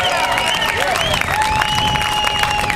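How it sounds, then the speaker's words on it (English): A political rally crowd claps and cheers loudly, with shouting voices rising and falling over a dense, continuous wash of applause. "So let me hear you clap."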